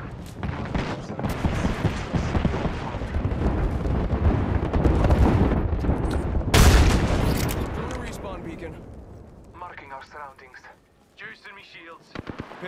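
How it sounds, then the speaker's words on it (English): Rapid gunfire in the battle-royale game Apex Legends, with dense overlapping shots and bangs for several seconds, one sharp loud burst near the middle, then sparser fainter sounds as the fighting thins out. "Shooting at me."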